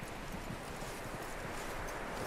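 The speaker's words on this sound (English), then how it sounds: "That looks like a decent horse." Horse hooves clip-clop steadily in Red Dead Redemption 2, a continuous run of quick, close hoofbeats on the ground with no talking.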